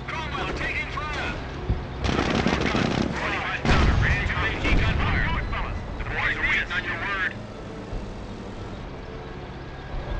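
Battle gunfire in the video game Company of Heroes, during the Liberation of Caen mission at Authie: dense, continuous rifle and machine-gun bursts with heavy booming artillery blasts, loud and chaotic, with soldiers' voices shouting over the din.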